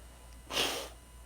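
A single short, sharp sneeze bursts out close up against a quiet background.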